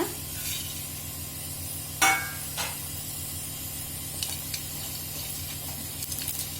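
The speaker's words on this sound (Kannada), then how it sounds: "ಇವೆಲ್ಲ ಹಾಕಿ ಫ್ರೈ ಮಾಡ್ಕೊಳ್ಳೋಣ" Whole spices for biryani garam masala dry-roasting in a pan give a steady low hiss, with a couple of sharp scraping clatters from stirring and a few lighter taps later on.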